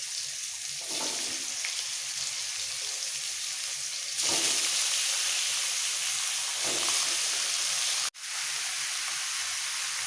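Young jackfruit pieces dropped into hot oil left from frying potatoes, a continuous loud sizzle that swells sharply when the pieces go in, with a brief clatter near the end.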